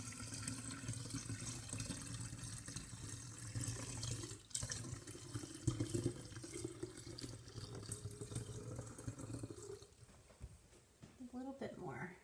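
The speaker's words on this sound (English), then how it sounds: "I'm going to go ahead and pour it in here" Milk poured into a jar for homemade yogurt, with a continuous trickling, splashing liquid stream near the microphone, a knock midway and a soft rustle at the end, a person talking over it.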